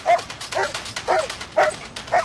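A police dog barks sharply and rhythmically, five loud close barks evenly spaced about half a second apart, with no talk.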